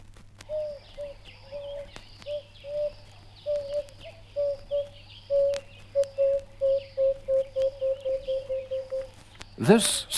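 Emerald-spotted wood dove calling in dry bush country: a long, steady series of soft, mournful coos that gradually quicken and run together, heard clearly against a quiet background hum, ending with a brief louder noise.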